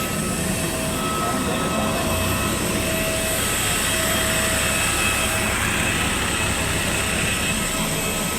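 An Air India Express Airbus A320 jet at Bagdogra Airport, a loud steady engine roar with a sustained whine, continuous and close throughout.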